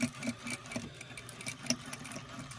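A sewing machine stitches the pleats of a fabric medical face mask, giving a fairly faint, steady mechanical ticking and whirring at close range.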